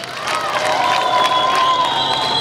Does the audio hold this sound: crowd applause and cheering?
yes